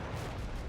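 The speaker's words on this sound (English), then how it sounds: "Another gratuitous explosion over at the ford on top of my unfortunate infantry" A loud, dense explosion rumbles through Combat Mission Battle for Normandy, landing on infantry at a river ford; the booming blast is sustained and thick with low-end roar throughout.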